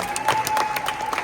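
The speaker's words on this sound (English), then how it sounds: "Let's give a round of applause for our 1 year." An indoor audience claps for a one-year award at an anniversary celebration, brisk steady applause with a few cheers, close and continuous.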